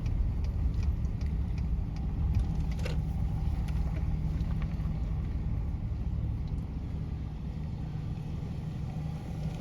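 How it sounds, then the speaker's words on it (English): A car passes along a rural road, a low steady engine rumble and tire roar heard from a stopped vehicle, with faint clicks and ticks over the continuous drone. "There's a car coming. I'm going to let them pass."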